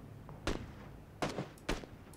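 Three sharp gunshots in PUBG, a battle royale shooter, each a quick, punchy crack. They are spaced about half a second to a second apart and sound fairly faint, over a low background with no talk.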